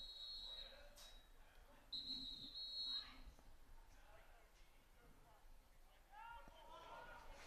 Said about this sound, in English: we thought that whistle was blown, and everybody kept playing